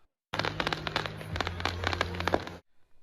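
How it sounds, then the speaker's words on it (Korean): A dense crackling barrage of New Year celebration fireworks in Wuhan, China, bursting in rapid succession for a couple of seconds, loud and close, then stopping abruptly. "전국 각지에서 축포도 쏘아 올렸습니다."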